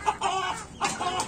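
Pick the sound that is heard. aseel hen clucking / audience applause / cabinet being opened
aseel hen clucking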